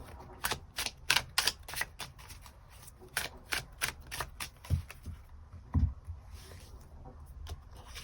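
A tarot card deck is handled as an extra card is drawn, giving a quick run of crisp, closely spaced card flicks and snaps that thin out into a few softer taps, close by with no talking.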